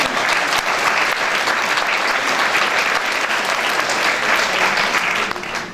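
A hall audience at a mayor's New Year address breaks into loud, sustained applause, dense clapping that holds steady for several seconds before easing slightly at the end.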